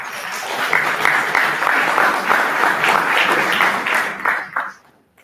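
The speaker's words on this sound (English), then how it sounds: "Please give him a big round of applause." An audience at a national operations summit applauds as a speaker comes to the stage, dense sustained clapping from a crowd that swells, holds for several seconds, then tapers off quickly at the end.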